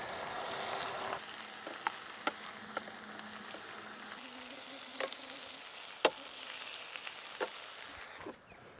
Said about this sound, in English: We're already starting to get that sizzle in the pan.